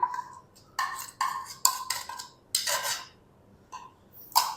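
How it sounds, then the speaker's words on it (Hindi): A series of separate clinks and scrapes of a utensil against a dish as masala is spread over chicken, sharp and fairly close with quiet gaps between them. "तो ये सारा जो मसाला है ना, वो चिकन के ऊपर डाल देंगे"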